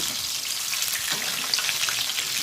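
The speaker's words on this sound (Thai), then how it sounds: "แม่ก็จะตัดออกนะคะ แล้วก็จะทอดต่อจนเสร็จเลยนะคะ" Tilapia fries in a fair amount of hot oil, producing a dense, continuous crackling sizzle that stays close and fairly loud throughout, with no talking.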